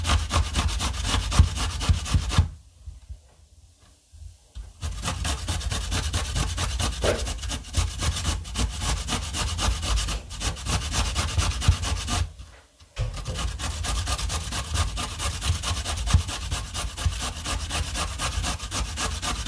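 Beetroot being grated by hand, a steady rasping scrape running continuously with two short pauses, close and fairly loud, with no talk over it.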